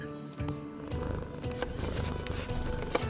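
A house cat purrs close up beside someone trying to nap, a steady low rumbling drone that runs unbroken for about three seconds with faint rhythmic pulsing and no talking over it.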